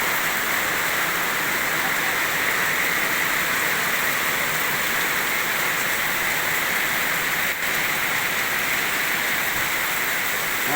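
Heavy rain pours steadily outdoors during the eleventh-month rainy season, a dense, constant hiss that never lets up across the whole stretch, with no voices.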